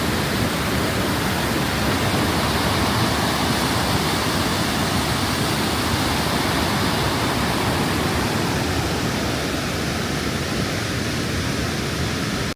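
A waterfall beside a roadside drive gives a steady, loud, broadband roar of rushing water throughout, with no talk or other sounds.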